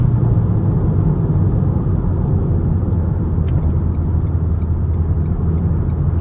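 Loud, low engine rumble from a 2019 Renault Megane 1.3 TCe with EDC automatic gearbox accelerating, a steady droning roar with road noise that holds constant throughout.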